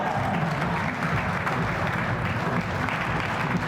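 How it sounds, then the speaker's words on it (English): Audience applause at an indoor tennis event, steady and dense clapping from a sizeable crowd filling the whole stretch at even loudness, with no talk over it. "Big round of applause!"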